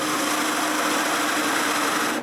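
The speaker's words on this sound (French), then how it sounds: "Je commence donc, avec ma plus grosse scie cloche, à percer un trou dans une de mes chutes." A large hole saw bores into a wood offcut, a continuous loud whirring drill grind held steady for about two seconds before cutting off abruptly.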